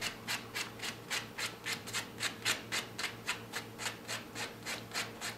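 A worn polishing sponge buffs a silk wrap nail in rapid, even back-and-forth strokes, a close, soft rhythmic rubbing repeated about three times per second.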